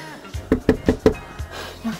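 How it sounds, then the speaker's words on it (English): Four quick, solid knocks land on a door in a rapid even series, close and fairly loud, followed by a softer thud amid light background noise. "knocking the door."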